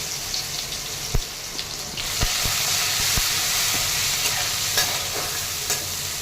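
Garlic, cumin seeds and cluster beans sizzle in oil in a pan, a steady broad hiss punctuated by several sharp knocks of a spoon stirring against the metal.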